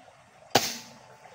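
A single air rifle shot firing an 18.15 gr pellet at long range, one sharp close crack with a short fading tail, then quiet.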